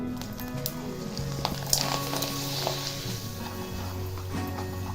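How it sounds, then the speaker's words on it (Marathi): Small rice-flour handi papad fry in hot oil with a soft, continuous sizzle and crackle close by, while low background hum runs underneath. "आता तेल तापलेलं आहे मी तुम्हाला तळून पण दाखवणार आहे"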